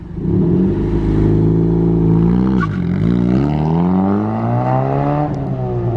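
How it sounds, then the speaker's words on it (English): A Honda Civic exhaust with the muffler deleted drones loud and close with a deep, raspy tone, revving up and settling as the engine pitch rises and falls. No one talks. "that actually sounds really clean for just a muffler delete"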